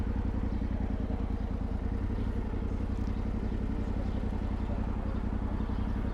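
A motorcycle engine idles steadily nearby, a low continuous rumble with a fast, even pulse and no talking.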